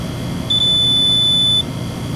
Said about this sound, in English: when you get a good reading, it'll beep on you